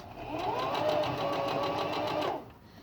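A sewing machine stitches a fabric face mask along the presser foot edge in one steady, continuous run of close whirring for about two seconds before stopping.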